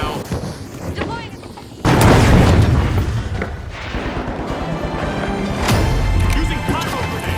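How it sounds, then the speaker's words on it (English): Pyro grenade in the video game The Finals, a sudden loud, booming burst followed by roaring, crackling fire and scattered gunfire, with voices talking over the combat. "Using pyro grenade."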